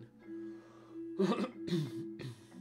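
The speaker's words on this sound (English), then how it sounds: "Bloody cough, man." Two or three rough coughs burst out close to the microphone, separated by brief pauses, over a steady low electrical hum.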